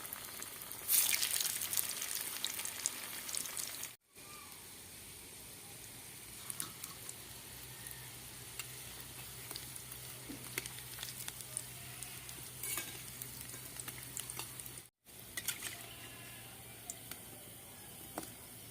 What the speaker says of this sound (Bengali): বাকি যে 3টে ছিল আমি ভেজে নেব একইভাবে।